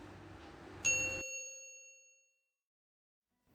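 A single bright notification ding rings out clearly after some background noise, then rings and fades away into silence.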